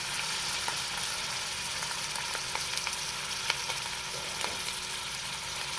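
Canned low sodium diced tomatoes sizzle and fry in a hot pot, a steady loud crackling hiss with occasional sharper pops and a faint low hum beneath, no voices.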